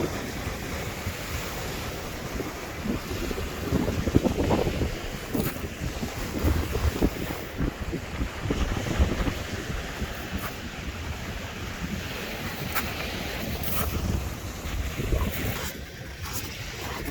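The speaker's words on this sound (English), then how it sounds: "It is very therapeutic with the waves splashing, despite being very hard going on these pebbles." Waves wash steadily onto a pebble beach, a continuous broad surf rush with periodic swells, heavily mixed with loud wind buffeting on the microphone and no talk.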